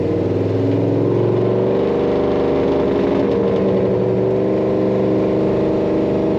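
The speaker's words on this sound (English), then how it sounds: "Kind of like a glass pack sound, which is a muffler from back back in the era" A deep, throaty glass pack muffler exhaust drones steadily from a cruising 1956 Ford Parklane wagon, a smooth low rumble with a mellow muffled tone.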